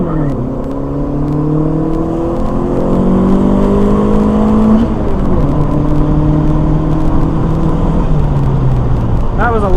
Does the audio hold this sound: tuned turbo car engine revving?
yes